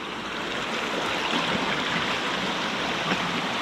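Cajon Creek stream water flows in a steady, loud rushing wash that holds unbroken from start to finish, with no voices over it.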